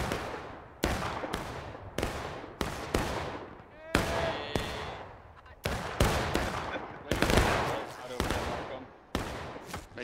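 Musket volleys and scattered single shots crack in a Civil War battle in War of Rights, a dozen or so sharp loud reports spread unevenly across the span, some close and some overlapping, with shouting voices in between.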